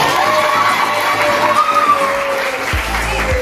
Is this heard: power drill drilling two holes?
no